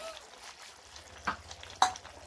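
Gourd greens go into a cooking pan with boiled potatoes amid a faint, low sizzle, punctuated by two soft stirring scrapes a moment apart.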